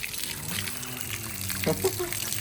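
Water runs from an opened tap as a steady, splashy rush of moderate loudness, with voices talking over it the whole time.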